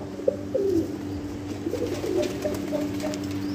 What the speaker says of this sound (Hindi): ये भी देखो खुला हुआ है कबूतर